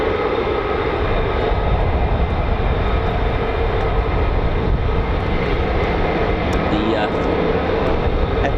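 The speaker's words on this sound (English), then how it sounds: "The F-35A can be seen here only at Lakenheath" Steady, continuous roar of a Lockheed Martin F-35A fighter jet at RAF Lakenheath air base, a broad, unbroken engine rumble held at constant loudness throughout, with no voices.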